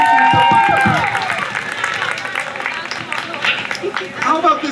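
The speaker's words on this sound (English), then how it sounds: "Let's give Nora a round of applause." Round of applause for Nora at a community rally in St. Albans, Vermont; a crowd claps loudly at first, then the clapping thins and fades out with voices and cheers mixed in.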